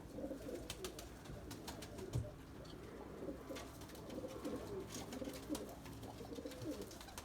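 Limoni breeding pigeons coo softly and repeatedly in a loft, low throaty calls overlapping at a moderate distance, with faint rustling and small clicks throughout.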